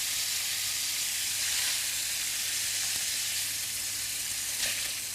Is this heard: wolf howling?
no